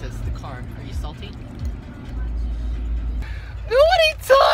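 A car moves by outdoors on a California trip, a low rumbling engine swelling for a couple of seconds, partly under excited talk and yelling, with other voices and loud calls near the end.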